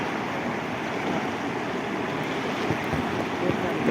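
Rain-swollen water rushes steadily into a village creek in Mangadh, Bhavnagar district, during a downpour, a dense continuous roar at close range with no voices.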